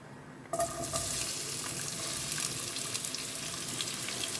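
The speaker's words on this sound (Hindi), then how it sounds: "प्याज को ना 1-2 मिनट के लिए अच्छे से भून लेते हैं" Sliced onions hit a hot pan and fry with a steady, dense sizzle that starts abruptly and carries on evenly at close range, with no talking over it.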